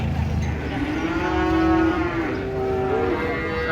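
A giant cow moos in one long, drawn-out low call that rises and wavers near the end, loud and close over a steady rumble of background noise.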